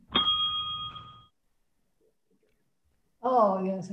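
A single bright gong stroke at the end of a simultaneous chess game rings clearly for about a second and fades. After a short silence, a voice begins speaking.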